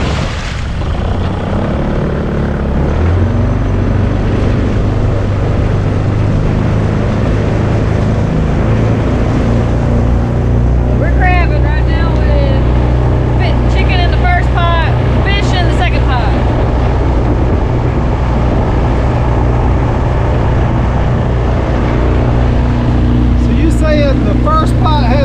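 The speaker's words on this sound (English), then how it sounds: "This motor back here, I just can't hear good." A boat's outboard motor runs steadily and loudly throughout, a constant close drone on a crabbing trip near a small barrier island, with people talking over it now and then.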